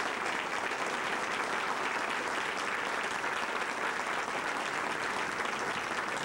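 An audience at a Chicago Public Schools address gives a sustained round of applause for standing chiefs and department heads. The clapping is dense and steady, fills the room evenly and continues without a break.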